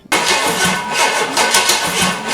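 A starter motor cranks a Corvette V8 swapped into a 1994 Jeep YJ, giving a loud, rapid, rhythmic churning chug that repeats steadily without the engine catching.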